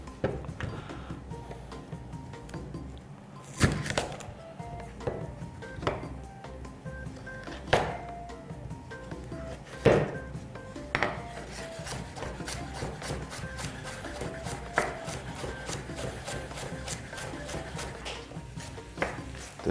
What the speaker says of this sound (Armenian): Գազարն էլ մանր կտրատում եւ ուղարկում ենք